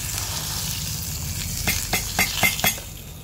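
Buttermilk hits a hot cumin and turmeric tempering for cucumber raita, giving a steady close sizzle with a few sharp clinks and stirring scrapes of a spoon against the pan.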